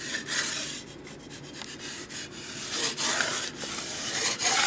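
A tool scrapes and shaves a rough dried plaster patch low on a wall, a steady close rasping rub that grows louder toward the end.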